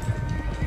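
Hooves of an Arabian horse in Red Dead Redemption 2 make a few dull, rhythmic clip-clop thuds at close range, loud and low, in a quick uneven patter, with no talking.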